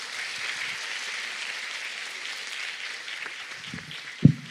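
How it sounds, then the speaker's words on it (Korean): A lecture audience at a math talk claps softly and steadily, the applause sounding faint and somewhat distant, with a couple of louder thumps near the end. "박수 부탁드리겠습니다"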